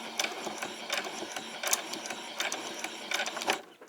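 A sewing machine runs in short mechanical bursts of clattering stitches while back-stitching along a fabric edge for a white summer top, close and steady before stopping near the end.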